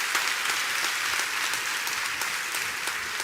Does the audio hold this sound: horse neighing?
no